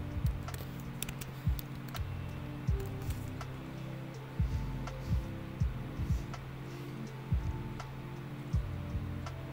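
Keys clack on a MacBook Pro keyboard as terminal commands are typed, a quiet, close sequence of scattered taps and a few firmer keystrokes over a soft room hum.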